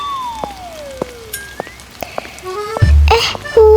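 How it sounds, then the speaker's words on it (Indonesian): Rain falls outside as scattered drops tapping in an irregular patter, followed near the end by a few louder, closer thuds. "Kok kayak hujan sih?"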